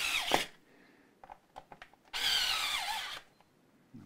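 A power drill tightens the bridge on an Ibanez Gio guitar in two whirring bursts, a short one at the start and a longer second run, with small clicks and handling noises between them.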